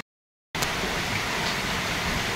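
Steady, continuous rain pours down on a Philippine goat farm, a dense even hiss that starts abruptly after a brief silence and holds without letup.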